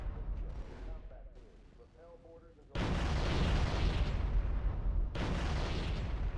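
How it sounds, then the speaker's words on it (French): Rapid bursts of gunfire from a modded Halo game, loud and dense, starting abruptly partway through and running in two sustained volleys after quieter game sounds with a voice at the start. "Oh, ça tire vite. Ah d'accord, c'est des rafales avec celui-là."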